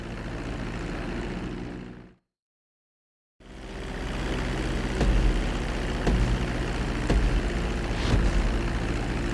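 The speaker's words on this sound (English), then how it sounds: "Start reducing the plane's altitude gradually so you're just above the runway as you approach." In GTA V, an airplane engine roars steadily as the plane descends toward a runway for landing. The sound cuts out briefly for about a second, then returns as a loud, continuous drone with faint swells.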